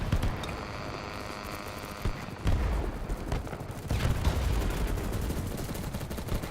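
Gunfire in the Battlebits video game, rapid bursts of shots crackling through much of the clip, fairly close, with louder volleys toward the middle and end.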